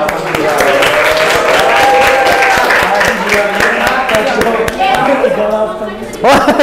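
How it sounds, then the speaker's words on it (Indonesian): Students applauding in a sociology classroom after a quiz podium reveal, a sustained burst of many hands clapping with excited voices over it, fading slightly near the end before a louder bump. "Oke, tepuk tangan ya, Kak."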